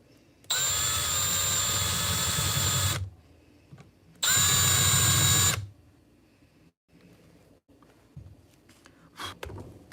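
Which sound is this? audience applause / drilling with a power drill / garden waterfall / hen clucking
drilling with a power drill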